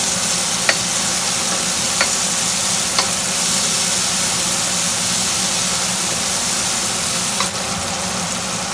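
Garlic and seafood fry in hot oil, a steady, loud sizzle with a few sharp clicks of a utensil against the pan.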